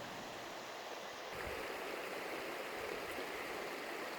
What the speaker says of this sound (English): This is Whitebird Creek today.